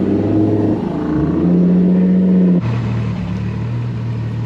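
A Nissan Z with a turbo engine, running low boost, accelerating hard in second gear from inside the cabin, a loud droning engine tone rising in pitch before a sharp shift and a lower, steady rumble.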